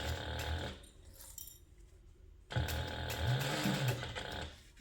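A sewing machine stitches a handbag seam at a quarter-inch allowance, running in two fairly quiet bursts separated by a short lull, close by with no talking.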